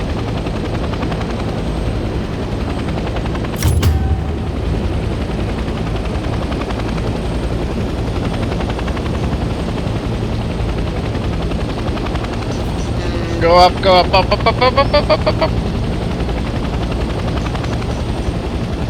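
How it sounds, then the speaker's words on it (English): A helicopter in the video game Hell Let Loose Vietnam drones with a steady, close rotor and engine roar throughout. A brief sharp burst comes early, a rapid fluttering series of tones follows near the end, and a voice speaks briefly. "I was not good at flying choppers at all."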